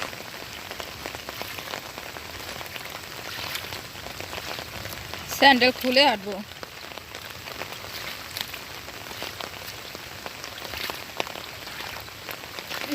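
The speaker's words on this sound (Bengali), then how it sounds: "দেখেন কি বৃষ্টি হয়ে গেল, এখনো বৃষ্টি পড়তেছে, অল্প অবশ্য, ছোট ছোট ফোঁটা পড়তেছে।" Light rain falls outdoors in small drops across a waterlogged village field in the afternoon, making a steady soft patter, with one brief spoken remark partway through.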